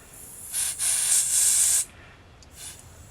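Two close bursts of hissing aerosol spray on a chainsaw, a short one then a longer one, followed by a faint brief puff.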